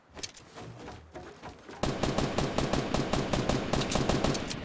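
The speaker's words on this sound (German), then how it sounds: "Ja, ich schieße ihn gleich mit Sniper ab, dann kannst du ihn finishen." Rapid rifle fire in Fortnite Battle Royale rattles in a dense string of shots, quieter at first and then louder and continuous after a brief lull, with no talking.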